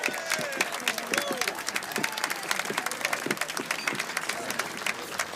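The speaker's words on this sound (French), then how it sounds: "on l'applaudit très fort pour qu'elle sache qu'on l'aime" An audience in a club applauds a singer as she is introduced, fairly quiet, dense clapping with a few cheers carried throughout.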